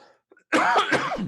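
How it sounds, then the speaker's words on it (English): One rough, harsh cough bursts out close and loud after a brief near-silence, sounding throaty and raspy. "Just coughing."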